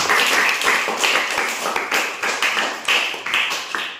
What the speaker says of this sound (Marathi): अश्विनीसाठी एकदा जोरदार टाळ्या